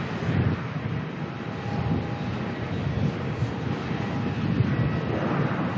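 Airliner departing Melbourne airport, a steady broadband jet roar with wind noise that holds fairly loud and constant throughout, without a clear rise or fade.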